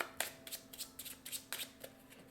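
Playing cards for a My Little Pony deck-building board game are shuffled by hand, making a quick series of soft riffling bursts close by with a faint steady hum underneath.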